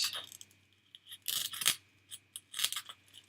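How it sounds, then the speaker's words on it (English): Foam ball being cut apart with a blade, a run of short, close crisp snips and scratchy tearing bursts in uneven rhythm, fairly quiet. "Then I just cut this ball apart"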